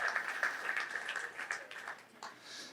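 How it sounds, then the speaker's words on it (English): Applause from wedding reception guests during a toast, a steady crackling patter of hands clapping at moderate level for a few seconds, with a thin sustained tone running beneath it. "Can we get a round of applause for those folks over there?"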